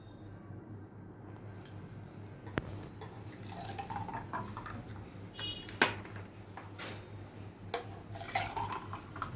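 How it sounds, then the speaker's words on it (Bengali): Green mango juice is poured into a glass, a soft, close trickle and drip of liquid with light glassy clinks scattered through the steady pour. "এখন আমি জুসটা দিয়ে দিচ্ছি"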